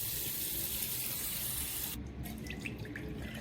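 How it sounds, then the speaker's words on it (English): Dirty water pours out of the opened compartment of a cordless Shark HydroVac MessMaster wet dry vacuum cleaner in a steady, close splashing gush that shifts in tone partway through. "just open the dirty water compartment, lift up the filter, and pour the contents out"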